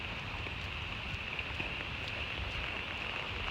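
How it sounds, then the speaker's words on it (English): Steady rain falls outdoors near a pond, a constant soft hiss of drops with faint scattered patters, fairly even and moderate in level. "Rain's kind of slowing down."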